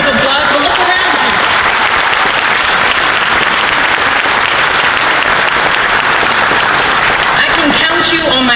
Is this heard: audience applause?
yes